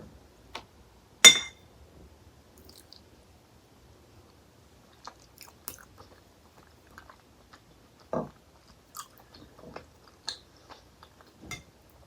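Someone eating a Thai sweet potato dessert in coconut milk: quiet, close spoon clinks and soft chewing and slurping sounds spread sparsely over near-silence.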